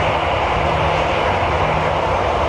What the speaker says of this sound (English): Engine number one starting.